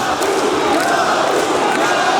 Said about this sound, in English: The audience is also getting involved, cheering for Kelbikhanov.